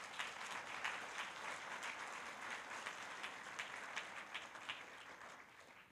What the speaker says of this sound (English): so give Lash a round of applause.